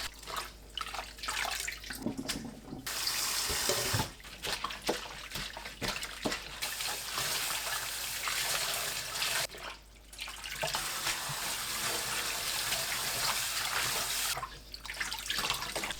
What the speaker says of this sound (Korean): 20분 후 미역줄기를 두세 번 씻어냅니다.